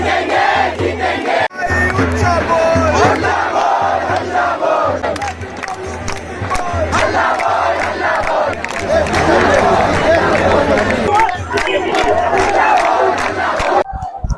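A large crowd of protesters at Jantar Mantar in Delhi chants and shouts loudly and continuously, with voices rising in rallying cries and cheers, dense and close, pausing briefly near the start and at the end.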